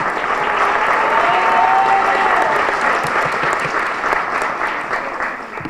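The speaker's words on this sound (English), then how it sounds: "Round of applause for Juana." A crowd gives a sustained round of applause at a city inauguration ceremony, loud and even clapping filling the hall from start to finish, with faint crowd murmur beneath.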